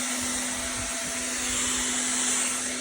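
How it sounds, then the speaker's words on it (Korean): Household vacuum cleaner running steadily indoors, a loud continuous whine with a strong steady hum, close and unbroken for the whole stretch, with faint low thumps underneath. "이렇게 청소기를 돌리기 시작하면"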